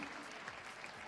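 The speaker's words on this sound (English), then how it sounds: "looking to the crowd to give him a round of applause" Indoor athletics crowd clapping for a high jumper at a meeting in Hustopeče, Czech Republic, a steady wash of applause throughout, fairly faint and distant.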